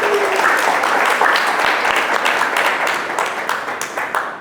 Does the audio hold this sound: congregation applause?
yes